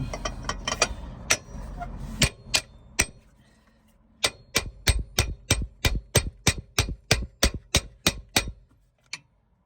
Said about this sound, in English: So we give it a few more taps. Just try it with a hammer.